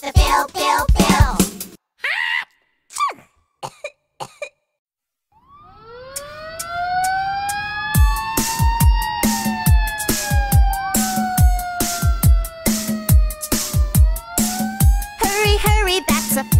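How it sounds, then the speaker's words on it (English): In a children's nursery rhyme song, a cartoon fire truck siren wails up and down over a bouncy musical beat after a few short opening sounds, loud and continuous to the end. "Hurry, hurry, that's a fire truck."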